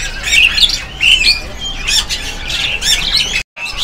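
Loud, harsh squawks and chattering calls from several brahminy starlings close by at a bird market, overlapping in quick bursts with a brief pause near the end.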